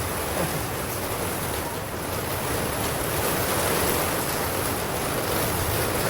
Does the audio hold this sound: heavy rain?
yes